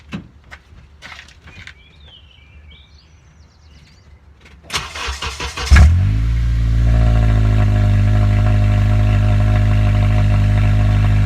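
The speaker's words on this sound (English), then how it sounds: "Alright, we're gonna see what it sounds like off of a cold start." A muffler-deleted Honda Accord fires up from a cold start: clicks and a whirring crank give way to a sudden loud catch, then a raspy, droning idle that holds steady up close.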